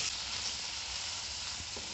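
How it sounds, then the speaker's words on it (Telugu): Half a bunch each of mint and coriander fry in hot oil, giving a continuous close sizzle with a faint stirring scrape near the end and no speech. "ఆయిల్ వేడెక్కిన తర్వాత సగం కట్ట పుదీనా, సగం కట్ట కొత్తిమీర వేసుకొని బాగా వేపుకోవాలండి."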